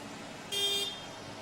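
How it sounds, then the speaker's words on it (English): A single car horn honks once, briefly and fairly loud, over quiet street background at the 2017 Medicine Hat Stampede Parade. "are they honking more horns this year?"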